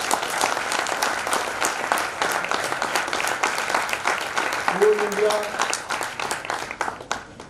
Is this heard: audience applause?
yes